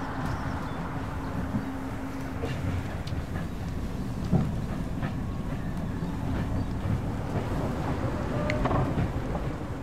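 Inside a freshly serviced Sapsan high-speed train on a test ride, a continuous low rumble of rolling wheels and rail noise with occasional clanks and rattles goes on steadily.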